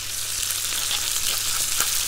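Seasoned chicken pieces crackle and sizzle as they fry in a pan, a steady close hiss with small pops and no voices.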